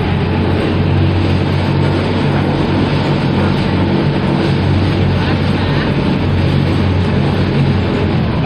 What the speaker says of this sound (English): that engine is a GMC motor, 270 cubic inch, inline six-cylinder gas engine with 91 and a half horsepower